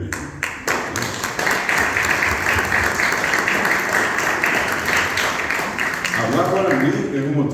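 Students at a school gathering give themselves sustained applause, a dense and loud wash of many hands clapping close by. It runs for several seconds without a break and eases slightly near the end.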